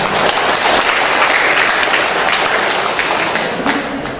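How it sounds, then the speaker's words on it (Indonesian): Audience applause at a police community outreach and supervision gathering in Riau, Indonesia, a steady, dense burst of clapping from a seated crowd that holds loud for about four seconds and eases slightly at the end. "Jadi demikian Pak, tepuk tangan dulu"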